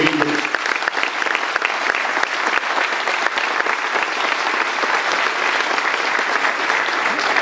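Audience at a community gathering in a small town giving loud, sustained applause for a woman, a dense continuous roar of clapping hands with a few sharp individual claps early on.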